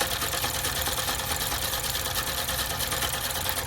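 A Juki F-600 sewing machine, freshly repaired after a broken gear and a needle bar set too high, stitches a wide zigzag at a steady, fast whirring rhythm that stays loud and close throughout.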